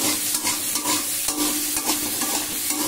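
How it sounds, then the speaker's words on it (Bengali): Soybean chunks fry in hot oil with turmeric and salt, a steady close sizzle broken by repeated stirring scrapes, with no voices. "সয়াবিনগুলোকে আমি একটু এরকম করেই আমি একটু তেলে একটু ফ্রাই করে নিই।"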